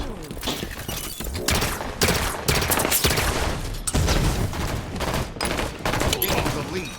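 Gunfire in the video game Halo Infinite, dense rapid bursts of shots and impacts crackling loudly and continuously through the whole stretch, with no clear talk.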